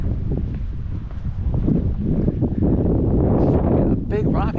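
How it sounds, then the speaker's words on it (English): Wind gusts steadily against the microphone while someone walks along a residential street lined with palm trees, a continuous low rumbling roar with a brief voice near the end. "A little windy."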